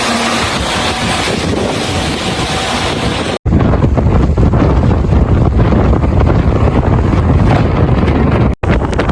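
Storm Amy wind gusts battering the coast, a loud roaring rush of wind buffeting the microphone, cutting out abruptly once, then returning even harsher and steadier.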